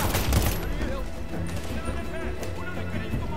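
Dense gunfire and explosions fill a Medal of Honor Warfighter battle, a loud burst up front settling into steady crackling and rumbling combat, with someone talking over the din.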